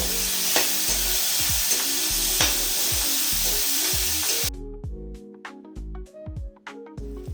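Masala for stuffing brinjal being sautéed with rock salt in a pan for ennai kathirikai kuzhambu: a loud, dense sizzle for several seconds, then quieter frying with close scraping stir strokes.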